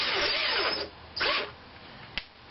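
A power drill drives small half-inch screws into a wooden guide piece on a band saw rip jig, heard as two close whirring bursts followed by a brief sharp click.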